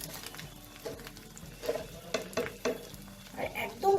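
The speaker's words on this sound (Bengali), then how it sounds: "নুন দিয়ে ভালো করে ডিমটাকে ভেজে নেব।" An egg with ground black pepper and salt frying in a pan, a soft sizzle under a series of spatula stirs and taps that grow louder toward the end, near and without speech.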